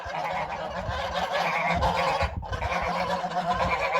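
Geese honking loudly and repeatedly at close range, a flock newly arrived and settling into a farmyard, overlapping nasal calls filling the whole moment.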